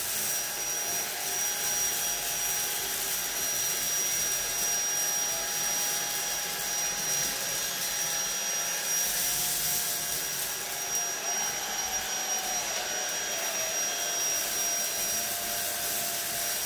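YOKEKON cordless stick vacuum cleaner, 22KPa suction, running on its first speed setting: a steady, high-pitched whine with an airy rush, constant and close throughout with no voices.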